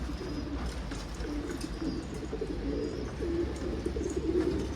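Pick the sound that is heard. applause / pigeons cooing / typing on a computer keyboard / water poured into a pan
pigeons cooing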